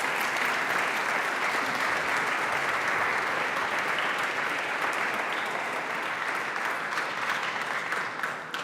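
A big round of steady audience applause at the European Charlemagne Youth Prize 2023 ceremony in Aachen, dense and continuous hand clapping from a hall full of people.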